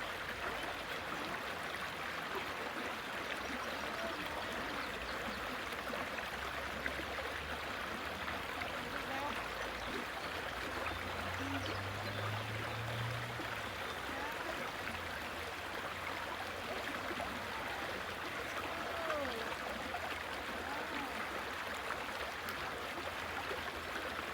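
Clear stream water flows continuously at a steady, moderate level, a broad rushing wash that runs unbroken throughout.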